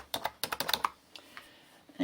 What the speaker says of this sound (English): so let's type the word Merry.